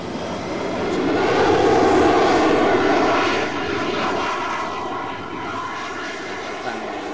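An A-10 Warthog (Thunderbolt) jet roars steadily during takeoff, a broad, loud engine rumble that swells over the first two seconds and then holds a slightly lower level for the rest, with no voices.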